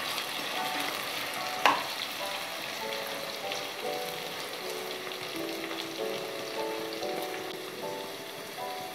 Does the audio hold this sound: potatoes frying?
yes